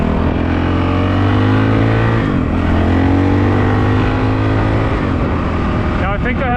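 A 2022 Honda CRF 450RL dual-sport motorcycle fitted with a full FMF exhaust system drones steadily at close range, its engine pitch rising and falling with the throttle, with a rider talking over it.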